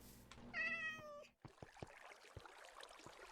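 A cat in the Minecraft video game gives a clear, close meow lasting about a second, followed by soft scattered game clicks and ambience.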